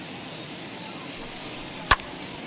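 In MLB The Show 21, a bat sharply fouls off a pitch: one crisp, loud crack standing alone over a low hum of stadium crowd ambience.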